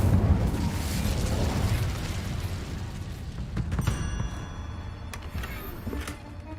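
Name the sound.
Incendio fire spell cast in the video game Hogwarts Legacy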